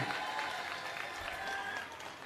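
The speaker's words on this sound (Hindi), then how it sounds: "एक बार जोरदार ताली बजा दो सारे जने" A large audience bursts into loud, continuous applause celebrating India's moon landing, a thick wash of many hands clapping at once that fades slightly at the end.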